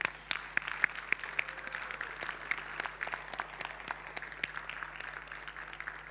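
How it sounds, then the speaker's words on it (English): An audience at a conference forum on displacement claps in sustained applause, many overlapping hand claps heard at a moderate distance, steady and even throughout with no one speaking. "Shall we give them both another round of applause?"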